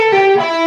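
Distorted electric guitar playing a phrase from Bad Company's Holy Water, a sustained bent note gliding into another, rich in overtones, close and loud with no talk.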